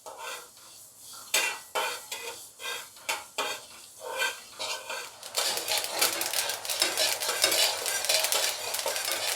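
Sesame seeds roasting in a pan for til chikki give scattered scraping and stirring clicks at first, then break into a dense, steady crackle and popping that grows louder.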